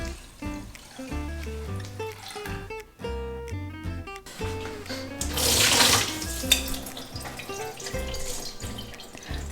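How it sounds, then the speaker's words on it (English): One cup of short grain rice is rinsed under a running kitchen tap, with water splashing and trickling unevenly beneath soft background music. "Rinse 1 cup of short grain rice"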